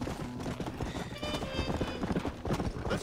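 Horse in Red Dead Redemption clip-clopping with steady hoofbeats and letting out a short whinny, close and fairly loud, with a voice talking over it.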